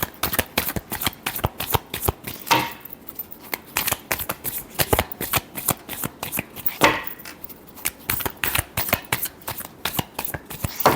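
Tarot cards are shuffled steadily during a love reading: a close, continuous riffle of rapid papery flicks and slaps, with brief louder bursts as the deck is cut and squared, and no talking.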